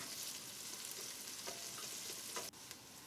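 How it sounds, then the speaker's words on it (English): Diced onions, crushed ginger, garlic and chilies sizzling in a pot while being stirred for seafood pulao, a faint, even frying hiss with a couple of soft scraping strokes, no speech. "Add some diced onions, crushed ginger and garlic, and some diced chilies into the pot. Give them a stir."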